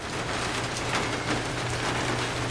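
Snow falls outdoors and hits the ground in a soft, steady, even patter, faint and with no voices.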